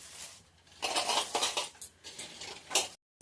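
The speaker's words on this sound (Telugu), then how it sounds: "సాల్ట్ వేసిన తర్వాత బాగా కలపాలి" Chopped cabbage, onions and salt are tossed and mixed in a bowl, giving uneven bursts of crisp rustling and soft clinking, close and moderately loud, over about three seconds.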